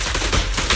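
Short burst of rapid gunfire in the video game Zenless Zone Zero, with loud, dense shots packed close together.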